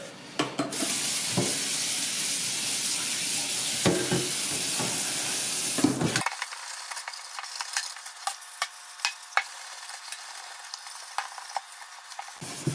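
Steel wool scrubs a greasy stove drip pan lathered with Dawn dish soap, a steady close rasping hiss. Partway through it turns into a sparser series of short scraping strokes.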